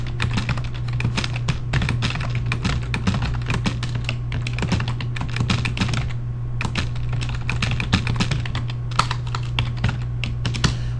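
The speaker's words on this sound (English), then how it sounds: "I could start typing stuff in." Fast, continuous clatter of keys on a computer keyboard, with brief pauses between bursts, recorded up close over a low steady hum.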